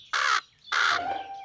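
Two loud, harsh caws from cartoon crows, each about a quarter second long and separated by a short pause, with the second call trailing into a fainter tonal note; no talking.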